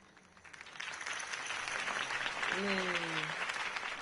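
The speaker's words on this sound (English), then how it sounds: "If only Mr. Wayne, my campaign's largest backer, could have heard that applause" A crowd applauds in the Batman Telltale video game, the clapping swelling from quiet to a sustained roar, with a short low tone sounding partway through.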